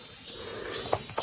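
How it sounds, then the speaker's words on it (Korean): Cicadas singing on a mountainside, a continuous high, shimmering drone heard from the surroundings, with a couple of faint brief chirps near the end. "네, 매미 운소리 들리나요?"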